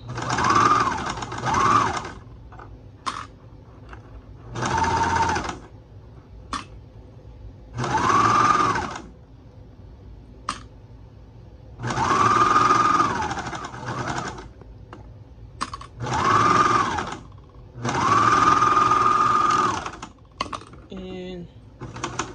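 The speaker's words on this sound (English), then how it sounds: "just took our socks from the serger, and this is how they look as you sewed it all the way around." Serger overlock machine stitching around a sock, running in about eight separate bursts of several seconds each with short pauses between, loud and close, a steady whirring drone.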